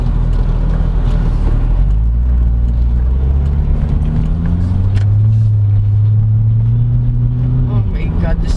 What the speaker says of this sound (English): This engine sounds amazing, and yet again, this is only my second V8 on my channel.